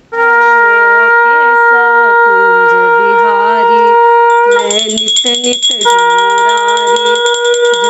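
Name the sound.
conch shell being blown for Janmashtami puja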